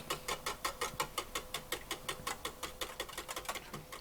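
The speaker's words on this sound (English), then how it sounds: "now I'll whisk all this up and then set it aside" A whisk beats a garlic powder mixture for mac and cheese in a bowl, giving a fast, steady run of close, light clicking taps alone with no talk.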